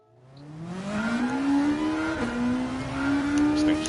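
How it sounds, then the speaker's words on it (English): A Toyota race car's engine in Gran Turismo 7 climbs steadily in pitch as it revs, drops briefly at a gear change, then rises again, loud and close with a raspy, racing tone. "This thing sounds like a race car, I'll tell you that"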